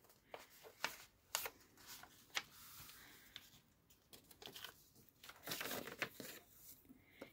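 An old paper atlas page creased and folded around a round can, soft rustles, crinkles and light taps repeating close by at a quiet level, with no voices.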